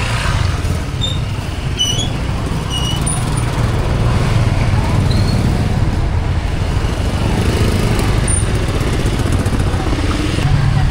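Vietnamese street traffic jam near a market, a dense continuous drone of idling and creeping motorbike engines close by, with scattered high squeaks and horn-like chirps over the rumble and no clear voices.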